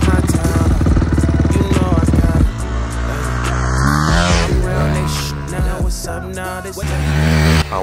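Honda CRF dirt bike engine on a first test ride at a farm, loud and close, a steady buzzing idle that rises and falls through revving throttle blips and gear changes.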